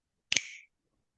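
A single crisp finger snap rings out close and clear, with a short bright decay into silence.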